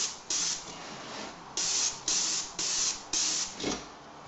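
Spray paint goes onto a Boba Fett helmet in light, smooth coats. Six short hissing bursts of about half a second each are separated by brief pauses, close and fairly quiet, with no talking.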